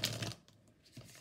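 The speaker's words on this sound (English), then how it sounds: "These cards make me almost feel like a professional shuffler" A deck of tarot cards is shuffled close up, with a crisp riffling burst at the start, then quieter handling and a second short shuffle near the end. No one talks.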